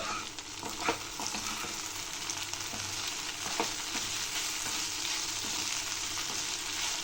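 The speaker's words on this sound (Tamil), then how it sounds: "நல்லா ரோஸ்ட் ஆகட்டும் ஒரு டூ மினிட்ஸ் கழித்து நம்ம மறுபடியும் வதக்கலாம் இப்போ நம்ம இந்த பக்கம் வதக்கிடலாம்" Sliced okra (ladies finger) sizzles steadily in a hot pan while being roasted for a fry, with a constant crackle and occasional scraping stirs against the pan, close and alone without talk.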